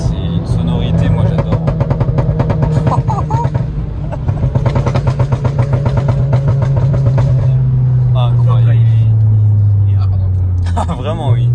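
A car engine with a strong, steady low rumble runs loud and continuously throughout, with pitch shifts suggesting revving near the end; voices talk over it.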